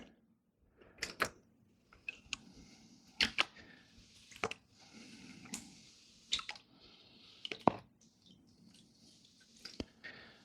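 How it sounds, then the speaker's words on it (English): Gold paydirt being washed in a gold pan with water: continuous close sloshing and swirling broken by irregular splashes and drips, with no talking. "let's just wash some of this lightweight stuff off and clean the water up a little bit, and then we'll just work on panning it back"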